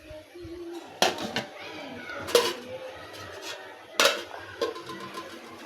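Rice is served onto a plate at a home meal, with dishes and cutlery clinking in a few sharp bursts and softer scrapes between them, quiet background, no clear talk.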